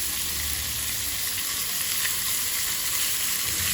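Paneer cubes frying in a little oil in a home kitchen pan, giving a loud, continuous hissing sizzle with no one speaking.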